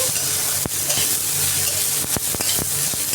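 Onion and green chili stir-fried in a pan for a bitter gourd curry, a steady close sizzle broken by several sharp scrapes and clacks of the spatula, no voices.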